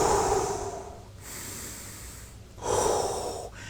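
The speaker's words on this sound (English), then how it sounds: "I like to take, 20 deep breaths" Deep breaths taken slowly during a morning routine after a walk, close and alone: a long inhale, then a quieter exhale, then another strong breath.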